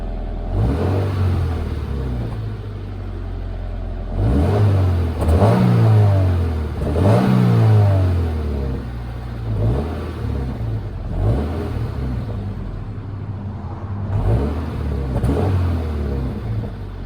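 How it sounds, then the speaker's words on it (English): A car engine revs hard several times in bursts, roaring up and settling back to a rough idle between, loud and close. "Let's get a rev going."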